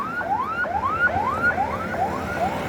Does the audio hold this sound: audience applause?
no